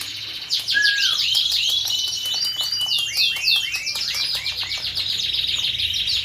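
Rapid, high-pitched chirps and twittering tumble over one another continuously, close and clear, from a small bird with no talking.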